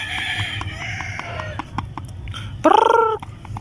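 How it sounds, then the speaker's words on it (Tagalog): Heritage chickens in a backyard flock cluck and call in a busy chorus, with repeated short squawks and a loud, drawn-out gobbling call near the end, all close by. "Yan yung ginagawa nila mga kaputak."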